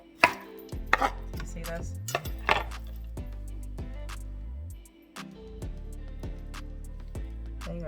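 A knife chops carrots thinly on a cutting board, a run of crisp, close, evenly repeated taps with brief pauses, while someone speaks a few words over the cutting.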